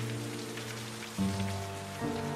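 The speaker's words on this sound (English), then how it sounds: "I didn't expect it to be raining now." Steady rain falling across a road during a long drive through unfamiliar country, a constant hiss of drops on surfaces with a low droning hum underneath and no one speaking.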